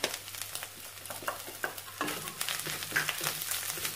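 Sautéed onions with masala powder fry in oil for a cowpea kurma, a close crackling sizzle broken by repeated scraping stirs, with no talking.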